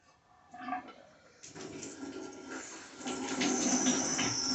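Water starts running through a newly installed faucet valve stem in a tub-shower, first a gurgle and splutter, then a steadily building close rush that grows louder and hissier toward the end.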